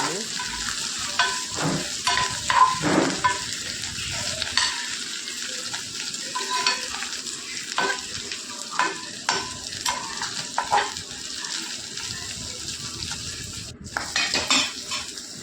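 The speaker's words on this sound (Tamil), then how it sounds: "துவையலுக்கு போட்டு நல்லா வதக்கிறேன்" Green chillies sautéing in a pan for ranakalli chutney, with a steady sizzle of frying and repeated scrapes and clinks of a spoon stirring against the metal pan, continuous and close with no talking.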